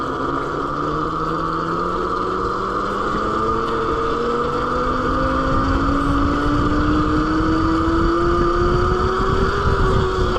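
AnyLand Rev Pro electric bike ridden in a wheelie on pavement, its motor producing a loud steady whine that climbs gradually in pitch over rushing wind and road noise, with no talking.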